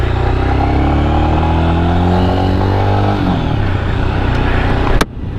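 A Royal Enfield Scram 411 motorcycle engine pulls away with a loud, close, harmonic drone that climbs in pitch, eases off as it shifts after about three seconds, then cuts off abruptly.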